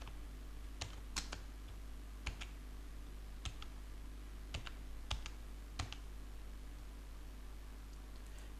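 Typing on a computer keyboard: scattered, irregular key clicks, some in quick pairs, sounding close but quiet over a steady low hum, with no voices.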